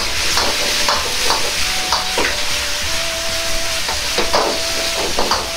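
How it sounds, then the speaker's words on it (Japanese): Shrimp and eggplant sizzle and fry loudly in a bubbling chili sauce in a wok, with steady hiss and repeated stirring scrapes and clatters throughout, no talking. "具材を入れ絡めていきます。"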